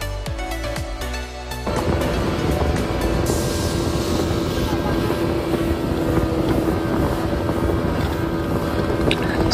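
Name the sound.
boat on the Musi River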